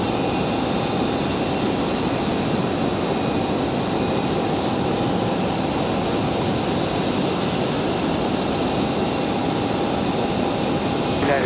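A Boeing 737 Max 8 departs Raleigh-Durham International, giving off a continuous, even jet roar with a faint whine running through it, loud and unbroken for the whole stretch.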